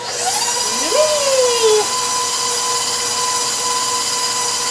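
A kitchen blender mixing meatball ingredients for a low-carb crock pot dish spins up with a rising whine, then holds a steady high-pitched whirring hum.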